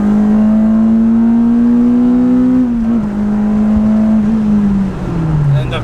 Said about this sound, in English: Let's see if we get one more pull,